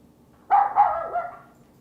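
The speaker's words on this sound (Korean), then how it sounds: "강아지 짖는 소리가 나오면서 동시에 대화가 나왔습니다." A dog barks once or twice in quick succession, a short, fairly loud burst within a song as it plays back, then trails off with no voices.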